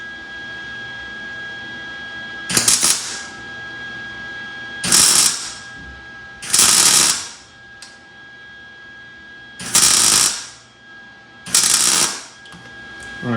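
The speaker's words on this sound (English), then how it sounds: "So what I'm going to end up doing is cutting a little notch right here real quick." Power tool cutting a notch in a fuse box relocation mount, five short bursts of harsh, loud cutting noise about a second or two each, separated by quiet pauses.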